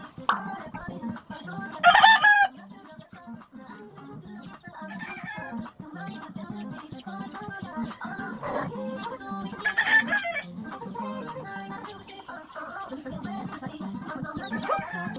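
Chickens cluck around a backyard garden planted with alugbati and sweet potato, and a rooster crows loudly twice nearby, with a person talking throughout.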